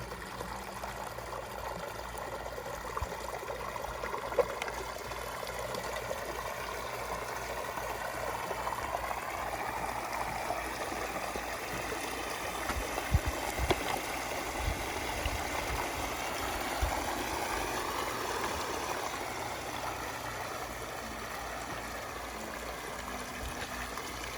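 A pump-fed pondless waterfall in a backyard sends water flowing and splashing continuously, a steady broadband rushing that stays even throughout with no voices.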